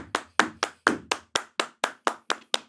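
A crowd claps hands together in time with a song, about eleven sharp, evenly spaced claps in a steady rhythm, loud and close with no talking over them.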